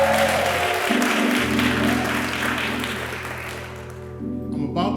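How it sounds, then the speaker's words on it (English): A church congregation applauds at a 2022 graduation ceremony, a dense, steady wash of clapping close by, with sustained musical tones droning underneath and the applause thinning out toward the end. "I want to thank Pastor Dennis and give him a round of applause."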